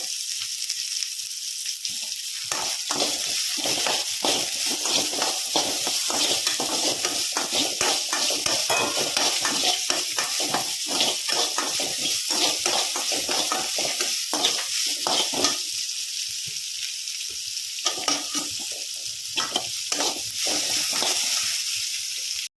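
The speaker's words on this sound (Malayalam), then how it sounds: "ഇത് നമ്മൾ ഇതുപോലെ ഇളക്കുക നന്നായിട്ട് വഴറ്റിയെടുക്കുക" Onions are stirred and sautéed in a pan for brinjal curry, a continuous loud sizzle with repeated scraping strokes of a spoon against the pan, close up and without talk.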